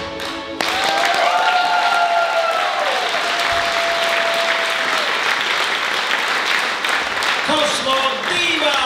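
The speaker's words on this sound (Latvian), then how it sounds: "Aplausi, aplausi, aplausi, aplausi" Audience applause at a masked singing contest show in Kandava, a dense, steady wash of clapping that fills about eight seconds, with a sustained tonal voice or music line running over the first part.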